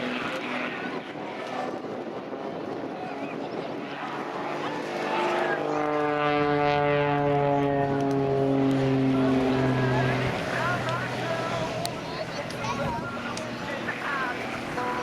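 A Pitts Special S2S aerobatic biplane at an air show drones overhead during an inverted flat turn. The engine rises and falls in pitch as it passes, fairly distant and moderately loud, over steady ambient noise.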